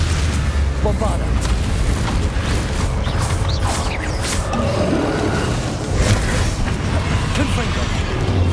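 Bombarda blasting spell explosions in Hogwarts Legacy, heavy booms and rumbling impacts rolling through dense, continuous combat noise with scattered crackling debris and mechanical clatter.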